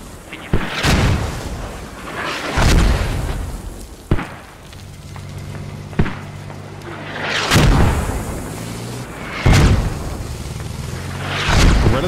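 Mortar rounds from Squad pound in a series of heavy booms, about six deep, rolling impacts spaced a couple of seconds apart, some close and loud, with a low engine-like drone between them.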